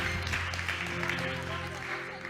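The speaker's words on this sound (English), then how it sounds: "I say, clap your hands." A church congregation claps along steadily in a loud, reverberant hall, the dense clapping filling the room throughout, with a sustained musical or vocal backdrop underneath.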